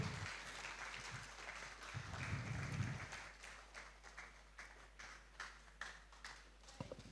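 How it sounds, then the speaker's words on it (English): Audience applause at a youth leadership debate and conference, quiet scattered clapping from a crowd that tapers off into fewer, sparser claps. "We can make the applause louder"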